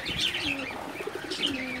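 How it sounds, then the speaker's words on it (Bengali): A black-necked Makra pigeon coos softly nearby in a couple of low, rolling calls, with faint chirpy chatter over a quiet background. "কালো গলা মাকড়া কবুতর, খুব সুন্দর কবুতর"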